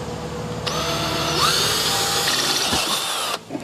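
A power drill bores a hole through a soft-covered part while fitting hand controls. The motor spins up, whines steadily at close range for a few seconds, then cuts off abruptly.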